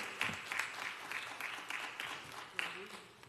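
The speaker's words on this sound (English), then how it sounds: "let's give him a hand clap of praise for all he's already done for us" A church congregation claps in praise during a Sunday service, steady dense applause with a few sharper hand-clap peaks, fairly faint and roomy, with some voices mixed in.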